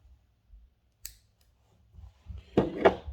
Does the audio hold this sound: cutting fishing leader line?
yes